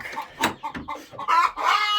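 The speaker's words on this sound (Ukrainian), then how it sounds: "Тут у нас курочка так і сидить." A hen clucks close by in a run of short, uneven calls, ending in a couple of longer drawn-out notes, with no talk over them.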